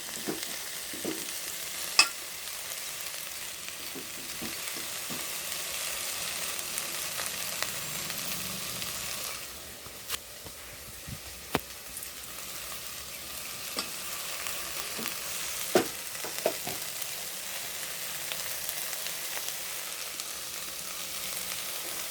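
Okra curry with chili powder fries in a pan while a spoon stirs it. A soft, steady sizzle runs throughout, broken by occasional sharp scrapes and taps of the stirring, with no voices.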